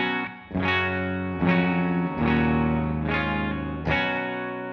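Electric guitar through an Aion FX Anomaly HotCake clone pedal with a little plate reverb, played on the bridge pickup as several sustained chords that each ring out, close and clear.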